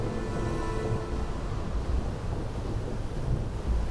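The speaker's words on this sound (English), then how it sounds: "And it's thundering." Thunder during a storm in the video game Space Engineers, a low rolling rumble with wind-like noise that fades slightly over a few seconds, no voices.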